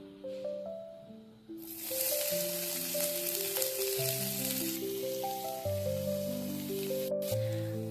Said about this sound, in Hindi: अब हम इन सबको हल्का सा भून लेंगे ताकि प्याज और सभी चीजें अच्छे से सॉफ्ट हो जाए